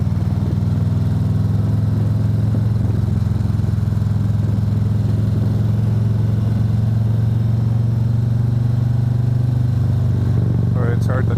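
A Harley-Davidson Road Glide motorcycle engine drones steadily while riding, a loud low rumble with wind rush that holds even throughout, with no pauses or gear changes.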